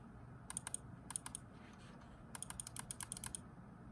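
Buttons on a Logitech G900 wireless mouse being clicked, heard as quick clusters of crisp, close clicks in several short bursts against a quiet background.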